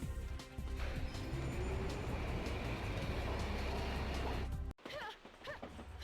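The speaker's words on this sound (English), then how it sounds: "We're on the train and we're trying to get off as soon as possible." A train ride in the video game The 3rd Birthday brings a loud, continuous rattling rumble of wheels on rails that cuts off abruptly near the end, followed by quieter ambience, with no talk.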